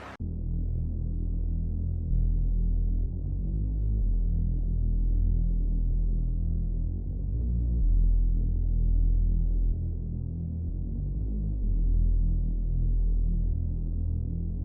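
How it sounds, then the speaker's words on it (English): A deep bass house synth bass line with a pitch bend drones continuously for about fifteen seconds, loud and low with slow throbbing swells and sliding notes, playing alone without voices. "So this is how the bass sounds like."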